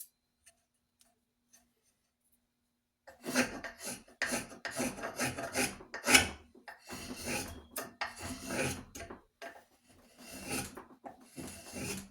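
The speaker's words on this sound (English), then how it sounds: "with your spoke shave, if I just want to get this one strip" A spokeshave shaves strips of wood from an Australian racing axe handle for a modified Council Tool racing axe. After a quiet start come rapid, rasping scraping strokes, close and crisp, in uneven bursts with short pauses.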